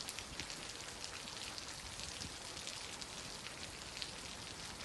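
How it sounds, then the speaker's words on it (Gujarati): Steady rain falling at the Saputara hill station, an even, soft patter of drops on surfaces that continues without a break. "સોમવારે વહેલી સવારથી ધીમી ધારે વરસાદની હેલી જામી હતી"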